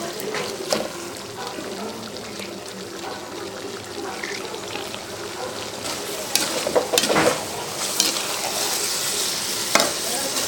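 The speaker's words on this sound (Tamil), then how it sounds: "தக்காளி போட்டு வதங்கியாச்சு" Tomatoes sauté with half-cooked mutton liver in a pan for Chettinad pepper fry, a steady sizzle with stirring scrapes and clatters that grow busier toward the end, with a voice speaking briefly underneath.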